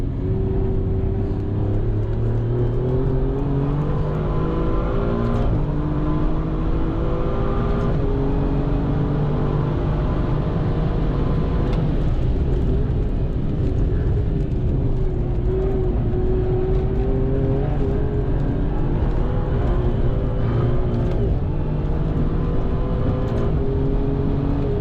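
Alfa Romeo Giulia Quadrifoglio lapping a race track, its engine droning loud and constant from inside the cabin, pitch climbing and falling repeatedly through gear changes and acceleration.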